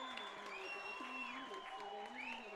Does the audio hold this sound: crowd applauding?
yes